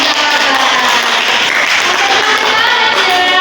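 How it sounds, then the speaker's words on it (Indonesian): Schoolchildren in a fifth-grade class applaud loudly and continuously, a dense, sustained wash of many hands clapping at once with no pauses. "Oke, tepuk tangan dulu untuk"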